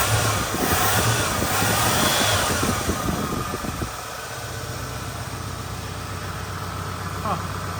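Engine of a 1966 Pontiac Catalina running at fast idle, a steady mid-pitched rumble nearby, busier and louder for the first four seconds and then settling into a smoother, quieter idle.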